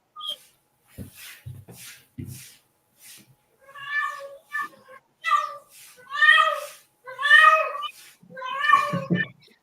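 A kitten meows repeatedly up close, a run of rising, plaintive cries growing louder toward the end, with some brief thumps and background noise early on.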